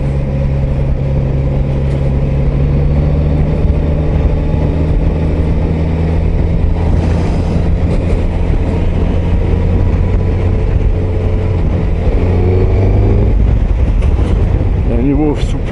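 A Suzuki GSX-S 1000 GT motorcycle engine lugs along steadily in sixth gear at 2000 rpm, a continuous loud low drone mixed with heavy wind rush, with a rider talking over it throughout.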